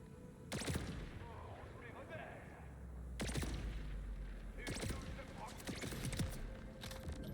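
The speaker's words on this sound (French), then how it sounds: "je vais tester mon nouveau sniper" Sniper rifle fire in the video game Borderlands 4, with a few sharp, booming shots spaced seconds apart over low game ambience and a rumbling background.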